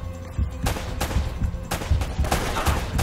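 Gunfire in the Uncharted video game, a dense run of rapid shots and bursts that repeat loudly throughout, with no talk over it.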